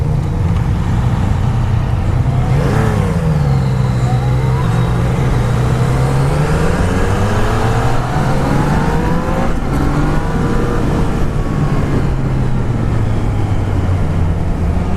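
A Yamaha XSR900 motorcycle pulls hard under sustained acceleration, its engine note sweeping up and down through the gears, loud and close throughout with steady wind roar and no talk.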